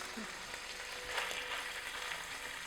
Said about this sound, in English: So we'll get the tuna to start cooking